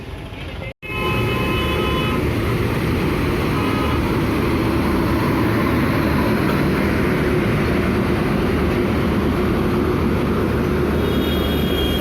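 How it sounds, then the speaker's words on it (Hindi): Patna–Dibrugarh passenger train at Phulwari Sharif railway station, a loud steady rumble of rolling wheels and carriages running close by for the whole stretch after a brief cut near the start, with faint high squeal tones. "यहाँ पे खड़ी है पटना डिब्रूगढ़ ट्रेन।"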